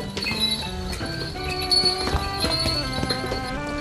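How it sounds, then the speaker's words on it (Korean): Hooves of a donkey clop along a narrow stepped stone alley in the old city of Mardin, eastern Turkey, in a series of sharp uneven knocks amid faint clinks and busy street ambience. "좁고 계단이 많아서 차가 다닐 수 없는 골목길을 당나귀는 잘도 갑니다."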